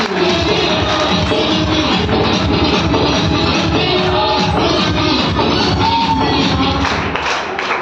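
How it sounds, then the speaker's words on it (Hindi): Dense applause and cheering from a seminar audience in Seoni, a steady mass of clapping with crowd noise that fills the space without a break, fairly loud throughout. "एक बार तालियां बजवा देना।"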